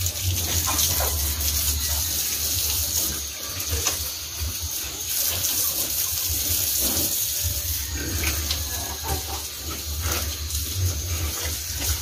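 Water gushes steadily from a hose as fattener pigs are bathed in a pen, a continuous close splashing hiss lasting throughout with slight rises and dips in flow.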